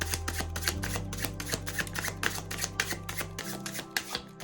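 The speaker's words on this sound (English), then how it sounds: "It shuffles super good." Rapid papery riffling of a tarot deck being shuffled, repeated flutters over a steady backdrop of soft music, close and clear.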